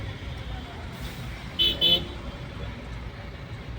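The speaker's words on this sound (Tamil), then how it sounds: "ஒரே டிராஃபிக்கு." Heavy, jammed road traffic on a highway lined with firecracker shops rumbles steadily, broken by two short, sharp car horn toots close by.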